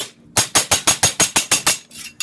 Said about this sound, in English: So I'll take my hammer, flat side,